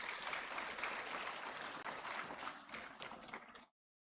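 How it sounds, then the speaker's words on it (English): Audience at a campus achievers' day event gives parents a long round of applause, dense steady clapping that fades out and stops abruptly near the end. "So big round of applause for them."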